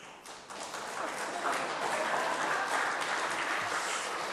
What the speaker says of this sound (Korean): 큰 박수로 환영해 주시기 부탁드리겠습니다